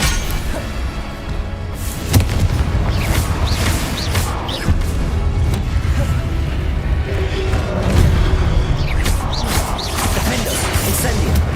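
Confringo blasting spells in the video game Hogwarts Legacy set off repeated loud crashing explosions and thuds over a dense, busy battle din, with voices mixed in.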